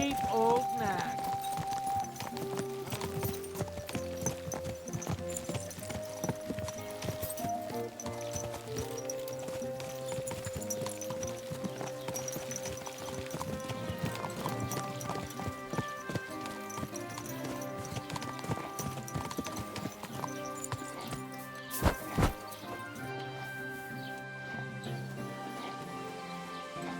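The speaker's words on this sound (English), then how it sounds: "What a cheap old nag." Horse hooves clip-clop steadily in the medieval role-playing video game Kingdom Come: Deliverance II. The sound runs under continuous game music, and there is a brief louder burst near the end.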